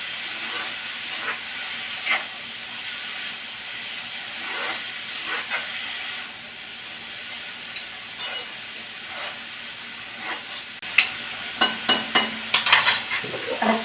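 Food gets stirred in a covered-bound cooking pot with a steady hissing steam background, soft scraping strokes recurring, and a burst of quick clinking scrapes near the end.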